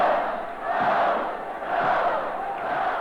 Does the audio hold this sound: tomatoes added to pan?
no